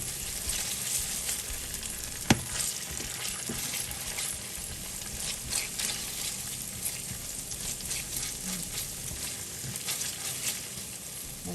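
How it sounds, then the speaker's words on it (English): Garlic and tomato paste frying in a pan for Afghan mantu filling, an even close sizzle throughout with occasional light clinks of a utensil against the pan. "Just make sure that you don't get the garlic and the tomato paste burnt"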